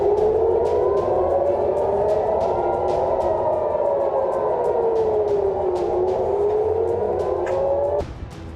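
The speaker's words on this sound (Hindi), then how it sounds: "लगातार सायरन की आवाज से इजराइल का आसमान गूंज उठा है।" Wartime air raid sirens wail across Israel, a loud continuous rising and falling howl that carries on for several seconds before dropping away abruptly near the end.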